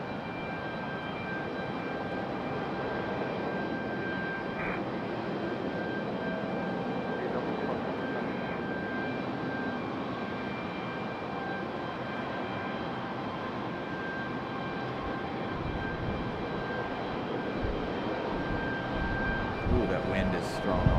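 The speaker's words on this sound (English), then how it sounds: "That one coming in from Boston on an A319-100." A Delta Airbus A319-100 inbound from Boston at Raleigh-Durham makes a steady, sustained jet engine roar with a faint high whine, continuous throughout, with a voice speaking over it.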